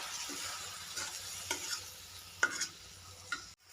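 Lightly browned onions sizzling in a pan after a water-mixed spice paste is added, a soft steady fry with a few scraping stirs and clinks of a spoon, ending abruptly.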